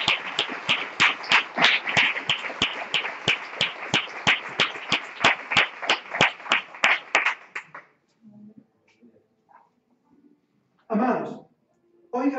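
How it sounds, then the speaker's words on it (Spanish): Rhythmic congregational clapping during a Spanish-language church sermon, steady sharp claps for about eight seconds, then fading into quiet room noise and brief voices. "Den un aplauso al Señor."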